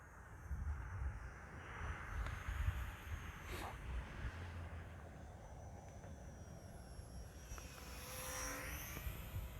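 An Eachine T-28 Trojan 400mm RC model plane flies overhead with a thin electric motor whine that rises and falls as it passes, over steady outdoor wind noise.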